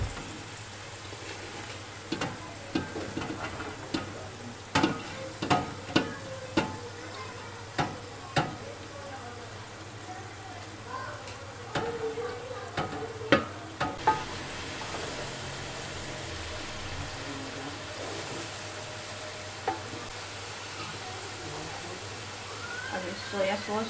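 Vegetables stir-fried for restaurant-style chicken fried rice, a steady sizzle in a hot pan broken by repeated sharp clicks and scrapes of a spatula against the metal, with a low fan hum underneath.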